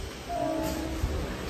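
Inside a train travelling from Mumbai, a steady low rumble of the carriage runs briefly with a short tonal hum rising over it.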